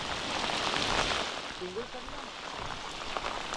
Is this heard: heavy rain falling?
yes